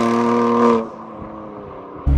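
A BMW M4 CS tuned to Stage 3 with 700 hp, its cold engine holding a steady low rumble that drops to a quieter idle, then a sudden loud blip of the throttle at the end, heard close up.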